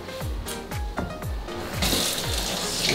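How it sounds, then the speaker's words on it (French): Hands rinsed under a running kitchen tap while a smoothie bowl is prepared, a steady stream of water splashing with small intermittent knocks, becoming a fuller gush toward the end. "Ensuite, je vais me passer les mains à l'eau."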